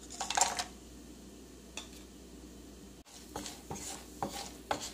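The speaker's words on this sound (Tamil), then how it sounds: "முந்திரி பருப்பு நல்லா ரோஸ்ட் ஆகிடுச்சு" Cashews roast in a pan for rava pongal with cumin and pepper, a spoon scraping and clinking against the metal in irregular strokes over a soft, steady background.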